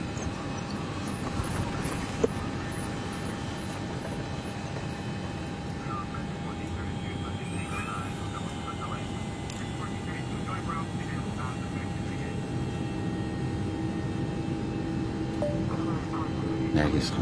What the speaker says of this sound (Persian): هواپیما داره را میافته به سمت تهران انشالله